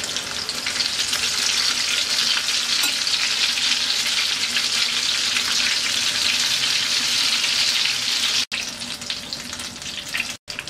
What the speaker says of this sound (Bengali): এক পিঠ ভাজা হয়ে গেছে, উল্টিয়ে দিচ্ছি